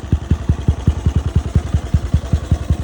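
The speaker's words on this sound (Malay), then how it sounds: "Kita dengar bunyi enjin" A Yamaha RXZ motorcycle engine idles close by, a steady low thumping pulse firing about seven times a second with a slight rattle, no voices.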